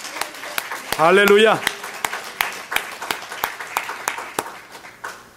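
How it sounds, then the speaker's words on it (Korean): A church congregation claps in steady, sharp bursts, loud and close, with a brief shouted exclamation from a voice early on before the applause carries on alone. "우리 다시 한번 하나님께 영광의 박수를 드리겠습니다."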